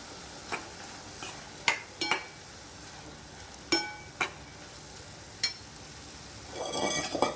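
Grated coconut is sautéed in a pan, with a spoon knocking sharply against the metal several times over a faint background sizzle and a brief rustle of stirring at the end.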